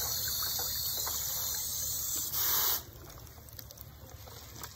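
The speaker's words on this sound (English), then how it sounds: "So I'm just gonna rinse them a little more." Water gushes and splashes steadily close by as dyed pine needles are rinsed, with a brief louder rush partway through before settling into a softer flow.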